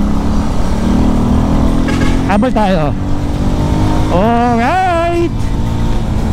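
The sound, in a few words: Rusi Flash 150 motorcycle engine and muffler exhaust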